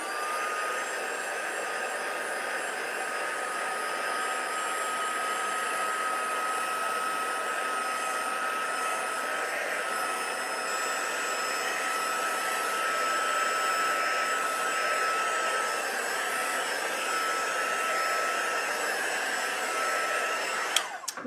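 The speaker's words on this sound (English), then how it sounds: "I'm going to give it a quick dry now." A hair dryer blows steadily for about twenty seconds while drying a mixed media art project, a constant loud whooshing whine close by, with no talk.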